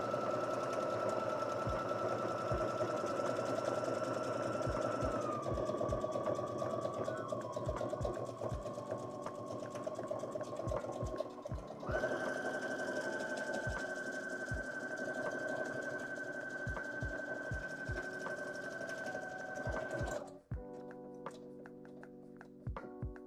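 A sewing machine stitching buttonholes on a dress runs in a steady whirring drone with a few shifts in speed and a brief stop near the end, close and continuous with no talk.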